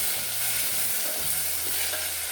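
Tomatoes sizzle steadily in hot oil for a spinach and potato curry, with a spoon scraping and stirring the pan; moderate, continuous frying noise with no talking.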